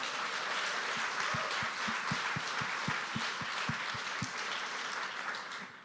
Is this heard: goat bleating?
no